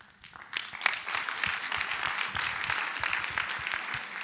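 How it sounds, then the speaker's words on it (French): A conference audience breaks into sustained applause, dense steady clapping that swells after a brief quiet start and holds at an even level without voices on top. "il y a des applaudissements, il y a des soutiens"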